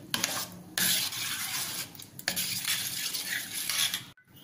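A spoon scrapes and stirs a gram flour and water mixture in a metal pot for taro leaf curry, close rhythmic scraping strokes with short pauses and a clack near the end.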